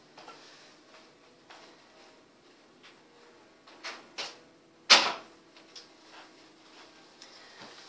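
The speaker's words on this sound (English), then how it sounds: "I'm just going to shut the door to my daughter's room" A bedroom door in a quiet house swings shut with one sharp, close thud, preceded by a few soft clicks and knocks as it moves, then faint small noises afterward.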